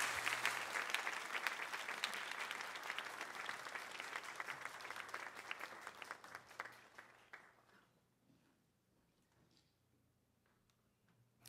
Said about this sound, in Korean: 우리 박성진 목사님, 우리 하나님께 영광의 박수를 드리면서 우리 목사님을 맞이하도록 하겠습니다